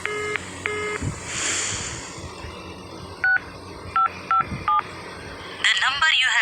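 A series of short touch-tone beeps as a phone number is keyed in, separated by pauses, then a burst of higher electronic tones at the end, followed by a busy line.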